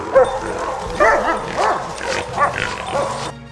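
Hunting dogs chasing wild boar bark and yip repeatedly at close range, several excited barks overlapping in an irregular rhythm with a few whiny yelps.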